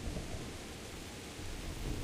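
Heavy rain with a rumbling thunderstorm in the medieval video game Kingdom Come: Deliverance, a dense steady wash of downpour with low rolling thunder underneath and no voices.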